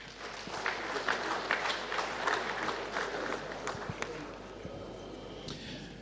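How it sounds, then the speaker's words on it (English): Applause from delegates and the public at a Ghana Football Association election event, a moderate, fairly faint spread of clapping with scattered louder claps that eases off toward the end. "Let's give them a round of applause."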